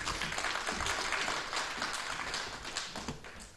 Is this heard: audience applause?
yes